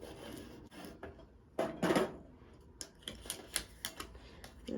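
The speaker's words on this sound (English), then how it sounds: "lay my transfer tape over top my design. And then I'm going to smooth it down." Transfer tape is smoothed down over a Cricut vinyl birth announcement design, with soft rubbing and scraping strokes coming in short bursts, close and fairly quiet.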